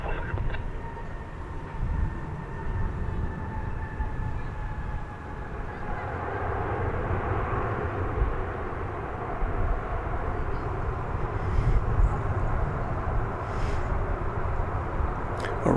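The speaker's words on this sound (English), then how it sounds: "Arriving from San Antonio, American Flight 2961. A minibus, Airbus A319" An American Airlines Airbus A319 arriving at DFW Airport from San Antonio gives a distant engine whine that fades into a steady low rumble, with faint ambient airport noise around it.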